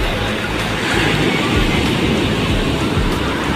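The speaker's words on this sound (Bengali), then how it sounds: "সাগরের প্রচণ্ড ঢেউ আছড়ে পড়ছে সাগর পাড়ে।" Strong sea waves crash steadily onto the beach at Cox's Bazar, a loud continuous roar of surf with wind buffeting the microphone and no distinct voices.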